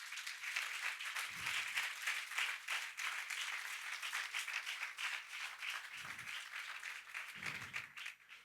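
A congregation applauds during a Spanish-language church sermon, sustained clapping that swells and fades over several seconds with a few scattered louder claps, no talking heard.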